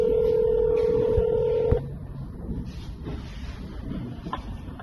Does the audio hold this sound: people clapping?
no